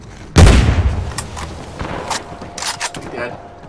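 A grenade blast in Uncharted 4 multiplayer lands as one sudden loud, deep boom, followed by scattered gunfire, footsteps and shouting voices.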